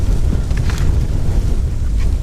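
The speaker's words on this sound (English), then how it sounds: "whoa, that wind, it's like 20 to 40 mile an hour winds" Strong wind of 20 to 40 miles an hour buffets the microphone outdoors during bass fishing with a Shimano Curado DC casting reel, a loud, continuous low roar with no talk.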